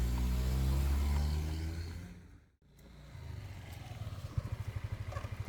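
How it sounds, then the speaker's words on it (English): A motorcycle engine rumbles loudly, dips briefly to near silence, then returns with a steady throbbing idle and rhythmic pulsing, with no talk. "Now this is a motorcycle"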